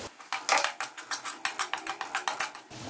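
A spoon stirs and scrapes gram flour through ghee in a metal pan, giving a steady series of rhythmic clinking scrapes, close and moderately loud, with no talking.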